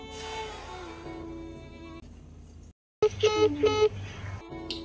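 Phone dialing tones in a Bangladeshi home drama scene, a series of short evenly spaced electronic beeps that stand out loud and close after a steady background hum and a brief silence.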